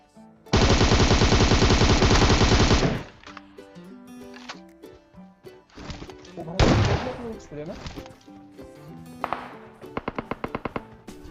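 Gunfire in PUBG Mobile, in a Military Base match: a long sustained automatic spray, then scattered bursts, thuds and a final rapid string of shots, with someone talking over the gameplay.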